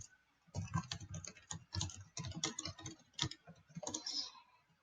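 Fast, light typing on a computer keyboard while editing text on a website, with quick irregular bursts of close clicks throughout.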